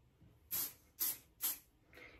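A hair shine spray is misted onto a styled pixie cut in three short, even hissing bursts close by, followed by a fainter fourth spritz.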